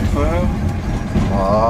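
A Ligier Professional licence-free microcar drives along and slows under braking, its low steady hum and road rumble continuous and close, with a faint rising whine near the end.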